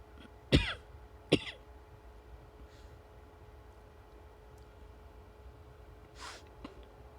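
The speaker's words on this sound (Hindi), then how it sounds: "खांसी आ रही है बेर बेर" Two sharp coughs with throat clearing come in quick succession near the start, followed by a quieter throaty rasp later, over a faint steady hum.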